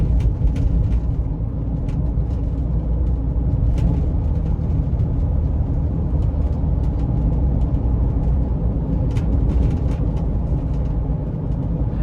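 Inside a 2015 Ford Transit-150 conversion van on a back road, a steady low road rumble and engine drone fill the cabin, with faint rattles and ticks over the continuous hum.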